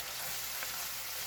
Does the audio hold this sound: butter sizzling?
yes